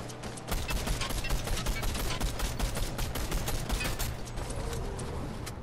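Rapid automatic gunfire in a video game, a dense continuous burst of shots sustained for several seconds at steady loudness.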